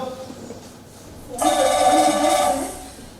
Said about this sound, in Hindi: रत्ना, रत्ना तुम्हारा फोन।